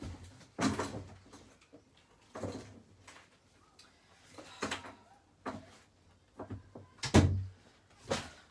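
Household door noises as someone heads out: a string of sharp knocks, clunks and thuds at irregular intervals, one louder bang near the end, close by and no talking.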